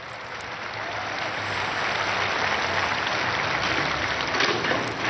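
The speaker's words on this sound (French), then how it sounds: "on les applaudit tous très fort" A large outdoor crowd of the faithful in Rome claps together, dense continuous applause that builds over a few seconds and holds steady, with no voices above it.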